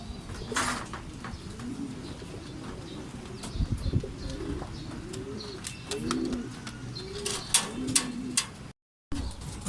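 Many racing pigeons coo steadily close by, with scattered flutters of wings and sharp clicks and taps around them, as birds arrive at their loft.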